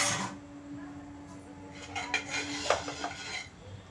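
Boiled eggs being stirred in a bowl for an egg chop, giving a few soft clinks and scrapes of utensil against the dish, close and fairly quiet, clustered toward the end.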